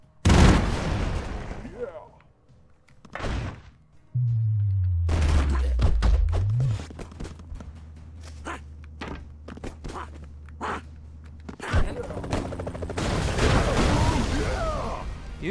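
Explosions and gunfire from the Broforce video game come in loud bursts of blasts and rattling shots, with a deep rumbling tone sustained through the middle and more dense bursts toward the end.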